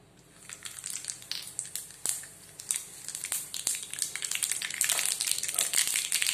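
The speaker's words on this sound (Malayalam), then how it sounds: "ഇപ്പോൾ എണ്ണ ചൂടായിട്ടുണ്ട്. ഇതിലേക്ക് കടുക് ഇട്ട് കൊടുക്കാം." Mustard seeds crackle and splutter in half a tablespoon of hot oil for a soya chunks gravy, a dense run of sharp pops and crackles over a steady sizzle that grows busier and louder toward the end, with no talk.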